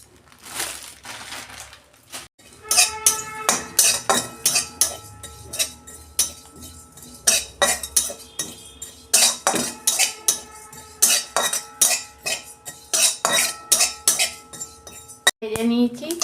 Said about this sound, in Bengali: এই যে মৌরি, আর রাঁধুনি, এটা আমি শুকনো খোলায় নেড়ে নেব।